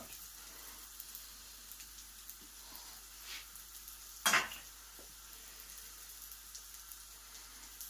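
A leftover mashed potato cake frying in a pan as its second side cooks: a faint, steady sizzle, broken once by a single sharp clatter midway.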